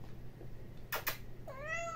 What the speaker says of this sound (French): mon chat me fait rire